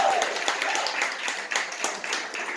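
A short burst of audience applause for a performer at a live event, a steady, fairly soft wash of claps with some distinct sharper hits.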